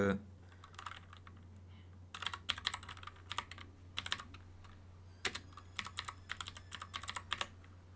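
Quiet computer keyboard typing in short clusters of rapid key clicks, entering a place name, heard close over a low steady electrical hum with brief pauses between bursts.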